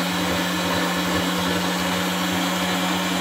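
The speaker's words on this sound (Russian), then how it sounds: "Здесь работает мясорубка." Electric meat grinder pushing herring through its auger while making herring paste, giving a steady, loud motor hum with a churning grind that runs on without pause and with no voices.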